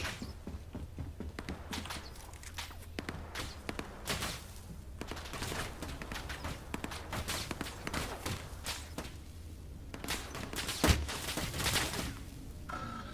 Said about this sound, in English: somebody was firing at me from across the platform